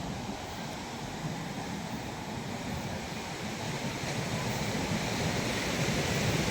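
Surf rolling onto Benaulim beach in Goa, a steady, loud wash of breaking waves with wind rumble and no clear gaps, filling the whole stretch.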